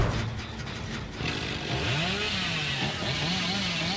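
A chainsaw in the horror game Dead by Daylight revs up, its engine whine climbing and wavering into a sustained, buzzing drone at moderate loudness, with no speech over it.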